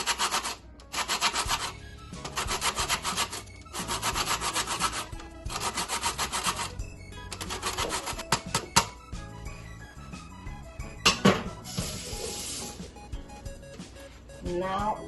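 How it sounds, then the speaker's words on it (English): Lemon rubbed against a hand grater, rhythmic rasping strokes in regular bursts, close and clear, with a voice talking between and over them. "I'm gonna use one lemon to grate with my grater"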